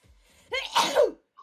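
A single sneeze, a quick inhaled build-up and a sharp burst, fairly close and moderately loud, followed by near silence.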